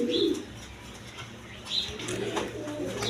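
Pigeons at a pigeon market give low coos close by, with brief wing flutters and faint chirps in a murmuring background.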